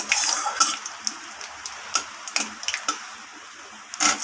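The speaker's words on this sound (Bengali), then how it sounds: "শুকনো লঙ্কা দিয়ে দিলাম দুটো ফোড়নটাকে আমি একটু তেলের সাথে ভালোভাবে ভেজে নেব" Dried red chillies and black cumin seeds frying in hot oil as a tempering, a continuous close sizzle broken by light scraping stirs and a few spatula taps against the pan.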